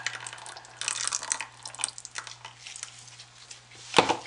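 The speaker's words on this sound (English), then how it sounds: "I want to take the brown and I want to pour it high above so it pierces through" Brown soap batter poured from high above into a mold makes a thin, splashy trickling, uneven and fairly close, ending with a sharper plop.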